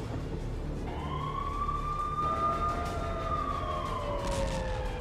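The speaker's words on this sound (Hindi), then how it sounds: "आधी रात एक बार फिर तेल अवीव में सायरन बज उठे" Air raid siren wailing across Tel Aviv at night during a rocket attack, a long rising and falling mechanical tone that swells and holds, heard from a distance over low background noise.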